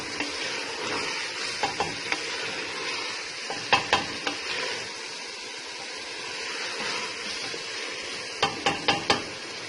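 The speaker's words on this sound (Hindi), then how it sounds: "अब इसे मैं 5 मिनट अच्छे तरीके से भून लेती हूँ।" Shaljam gosht masala with chicken fries in a pot, a steady close sizzle broken by repeated clinks and scrapes of a spoon stirring against the metal.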